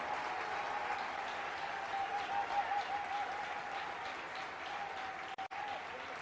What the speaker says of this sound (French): Now is the good time for you to clap your hands and give